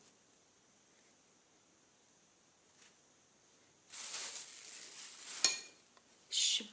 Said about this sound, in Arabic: وغادي نضيف معلقه ديال الشبه